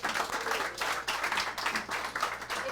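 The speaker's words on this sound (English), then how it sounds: "Big round of applause." Audience applause following a talk, dense continuous clapping from a room of listeners, fairly close and loud, in pulsing waves with no voices.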